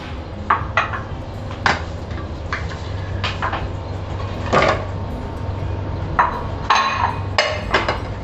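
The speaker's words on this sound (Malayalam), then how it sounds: "ഇനി നമുക്കിത് കുക്കറിലേക്ക് ഇടാം" Cut raw plantain pieces dropped into a pressure cooker: scattered clinks and knocks against the metal pot over a steady low background hum, with no talking.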